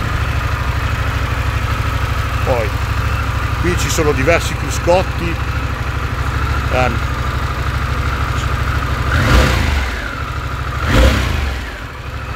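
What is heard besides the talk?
Harley-Davidson Pan America motorcycle engine idling after start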